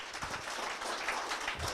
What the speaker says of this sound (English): If we give our panelists a round of applause.